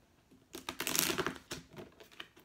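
A deck of tarot cards gets shuffled in a few quick, papery bursts of flicking and rustling over roughly two seconds, close and fairly quiet.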